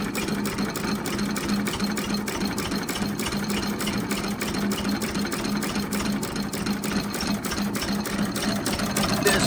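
A Ruston Hornsby AP 5.5HP stationary engine under restoration runs steadily, a fast even mechanical clatter and chug repeating throughout at close range.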